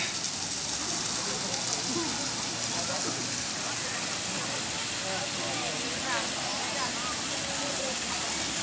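Steady broadband rush of the Bulinao Falls waterfall, continuous and fairly loud throughout, with voices of people talking faintly beneath the roar.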